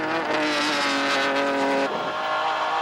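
Race cars, including a Corvette, racing at Lime Rock Park in a 1999 World Challenge GT race, with a loud, sustained engine roar at high revs that drops sharply near the end as a car shifts or lifts.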